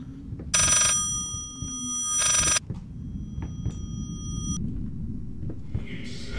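A telephone rings in the horror video game Layers of Fear, giving two loud electronic bursts over a low droning rumble, followed by scattered faint clicks and creaks.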